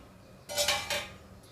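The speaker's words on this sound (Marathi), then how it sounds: "यावरती झाकण ठेवायचं आहे" A lid is set on a pan of Malvani amboli cooking over a medium flame, two quick close metallic clinks in a row and then a short fading ring.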